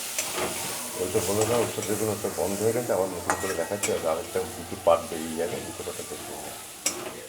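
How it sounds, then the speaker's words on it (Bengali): Spices with red and Kashmiri chilli powder sautéing in a pan for a fish curry, close sizzling and stirring with someone talking over it throughout. "এবার এটাকে ভালো করে আমি কষিয়ে নেব।"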